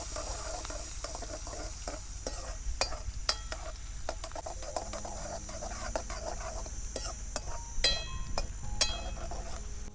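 A tempering of asafoetida, curry leaves, green chillies and onion sizzles in a pan while being stirred, with a steady frying hiss and scattered spoon clicks against the pan, close and moderate.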